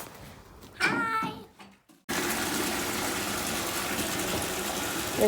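Water gushes steadily into containers while animals are given water during evening chores, preceded by a short burst of voice-like sound and a brief pause.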